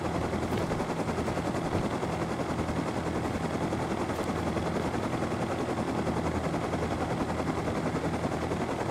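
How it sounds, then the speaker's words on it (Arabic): A helicopter in a first-person shooter game comes in to land, its rotor beating in a constant, loud, fast thrum that persists without pause. "صف الطيارة هون بالزاوية كرمال ما تتفجر"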